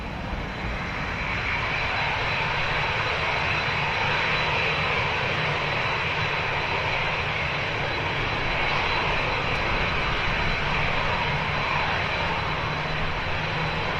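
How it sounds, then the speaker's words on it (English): A Ryanair Boeing 737-800 jet departs, a loud, steady roar of engines holding for many seconds at close range with no break. "Ryanair's off to Dublin. Nice short flight for the 737-800 series."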